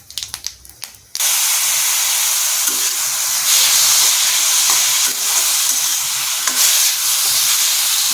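Papaya pieces tip into a hot pan of oil for a sweet-sour chutney: a few soft clatters, then a sudden loud, steady sizzle that continues close and strong, with no one speaking.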